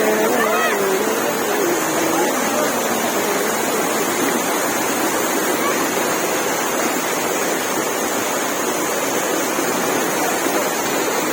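Raja Rani waterfall roaring steadily as a loud, continuous rush of falling water, with a brief voice near the start.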